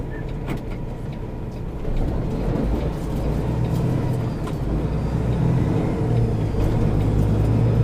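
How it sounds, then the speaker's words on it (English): A semi truck launches from a stop sign with its tires briefly spinning, heard from the cab as a loud, close, continuous engine rumble that builds slightly. "Got a little bit of spin from the tires there trying to launch."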